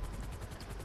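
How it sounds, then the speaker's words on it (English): Helicopter in the video game GTA 5, a steady low rotor thump with a rhythmic chop pulsing through nearly a second of continuous engine noise, heard alone. "He could drop off a helicopter for us."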